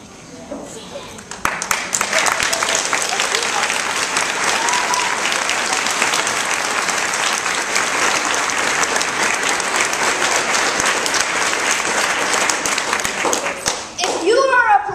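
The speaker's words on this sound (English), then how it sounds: "Please give the heroes a round of applause." An audience at a ceremony honoring military members, veterans, missionaries and pastors breaks into loud, sustained applause that builds quickly and fills the room, with a voice heard briefly as the clapping fades at the end.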